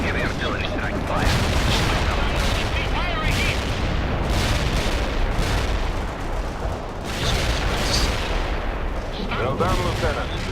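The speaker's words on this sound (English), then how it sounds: "Heavy artillery strike fire." Heavy artillery strike in the real-time strategy game World in Conflict: dense rumbling barrage of booms and blasts runs nearly continuously for about ten seconds, with radio-style voices and game chatter layered underneath.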